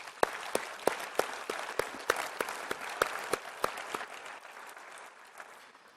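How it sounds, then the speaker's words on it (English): A modest audience at an ISWA World Congress awards ceremony in Baltimore claps, with distinct individual hand claps forming a thin, rhythmic round of applause that fades out after a few seconds. "let's recognize this campaign with a round of applause"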